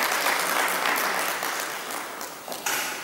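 An audience at a public forum gives a hearty round of clapping, dense and continuous, tapering slightly before a small renewed swell near the end.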